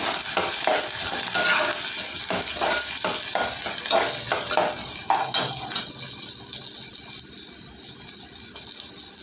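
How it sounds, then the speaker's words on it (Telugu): Onions fry in hot oil for upma, a bright, steady sizzle close by, broken early on by rhythmic scraping strokes of a spoon that fade as the frying settles into a calmer hiss. "నూనె వేడెక్కిందండి, ఉల్లిపాయలు వేసుకుందామండి"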